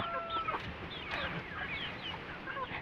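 Small Rhode Island chickens clucking in a backyard flock, several soft overlapping clucks and calls over a steady outdoor background.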